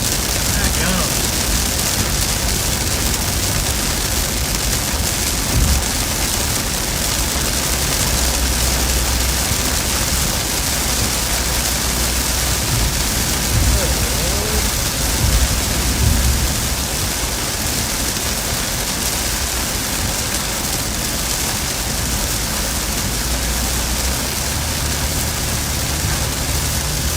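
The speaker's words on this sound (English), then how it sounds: "we found the heavy rain like we said we didn't want to" Heavy rain during a storm in Arkansas pours down steadily as a dense, constant roar, loud and close throughout, with occasional sharper bursts and people talking beneath it.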